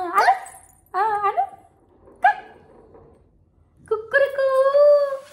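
A voice imitates a dog barking, giving short woof-like bursts at close range, then a longer voiced call, in a quiet room.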